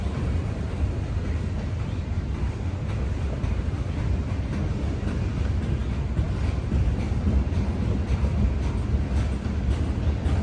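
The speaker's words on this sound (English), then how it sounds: "Looks like we got some empty gondolas coming up here." A freight train hauling empty gondola cars rolls past an overlook, a steady low rumble with a continuous rolling roar that holds without break for ten seconds.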